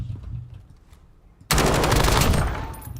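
Kilo assault rifle in Warzone firing one long unbroken automatic burst that starts abruptly after a quiet stretch of low rumble and stays loud and close until the end.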